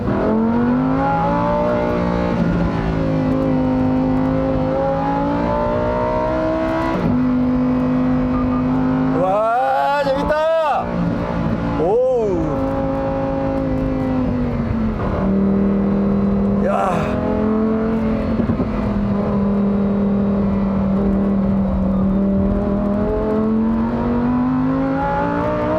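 A Lamborghini Huracan STO's naturally aspirated V10 revs and pulls hard, its loud, rising and falling engine notes sweeping up sharply in several bursts with gear changes, close and dominant throughout.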